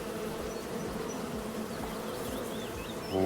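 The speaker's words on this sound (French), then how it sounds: "Alors ici vous avez les abeilles ici." Continuous buzzing of bees in a video game, a dense steady drone with faint higher whines, no voices.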